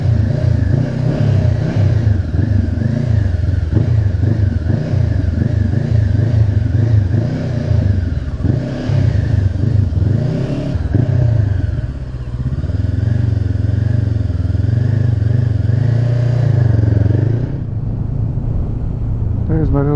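A Honda CB500X motorcycle practising slow manoeuvres in a small car park, engine running close and loud throughout with repeated revs and throttle changes, easing off near the end.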